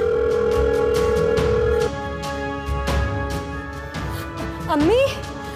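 A telephone rings with a steady electronic tone that cuts off after a couple of seconds, heard under distressed, overlapping voices in a tense indoor scene.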